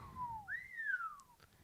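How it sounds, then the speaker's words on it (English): Two people whistling together, a short falling tone followed by a longer rising-then-falling note, clear and fairly close, with faint clicks at the end. "Hey, we whistled at the same time."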